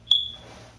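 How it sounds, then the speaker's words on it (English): A single short electronic beep, like a smoke alarm chirp, sounds once near the start, sharp and moderately loud, then fades into a low background hum. "the beeping will drive me insane."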